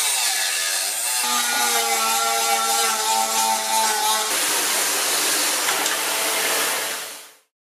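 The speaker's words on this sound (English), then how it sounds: "Now, using Dremel, carefully, I cut off this bottom part from the case." Dremel rotary tool cutting through a PC case, a loud high-pitched whine that dips and rises as it bites into the metal, then turns to a harsh grinding rasp before cutting off abruptly.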